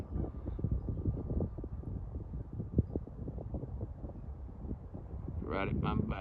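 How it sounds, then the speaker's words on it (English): A big gust of wind on a mountain during a wildfire, a rough, steady rumble buffeting the microphone, with indistinct voices nearby. "Big gust of wind coming."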